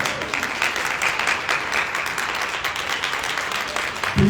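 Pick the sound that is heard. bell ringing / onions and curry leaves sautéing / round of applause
round of applause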